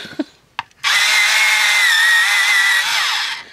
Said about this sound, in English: I'm going to sharpen for a second, so plug your ears again.